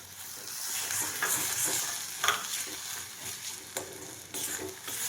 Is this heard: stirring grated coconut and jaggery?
yes